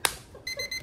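A digital alarm clock gives a quick run of bright, repeated electronic beeps, quiet and fairly close, starting just after a brief sharp click.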